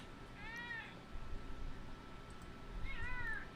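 A cat meows twice, once early and once near the end, each a short, clear, rising-falling call over a quiet, low rumbling room background.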